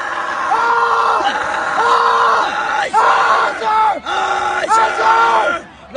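Marine recruits scream and yell in unison in loud, repeated rising group bursts, a chorus of strained voices sounding close and overlapping with barely a pause.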